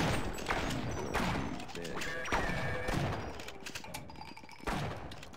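Shotgun blasts in the video game Sven Co-op, several sharp, heavy bangs spaced irregularly among clanking game noises, with a voice talking at times.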